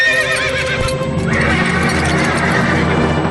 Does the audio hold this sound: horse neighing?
yes